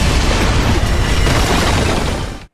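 A huge anime battle explosion from clashing attacks in Soul Land roars as a dense, loud, sustained boom, filling the whole moment before cutting off abruptly.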